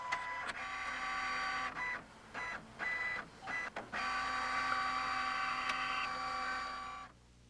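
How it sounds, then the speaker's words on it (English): An early-2000s home computer printer prints a document, its steady mechanical whir running loud and close with several brief pauses as the print head and paper feed stop and restart, then falling quiet at the end. "Within moments, your to-do list will arrive out of your printer."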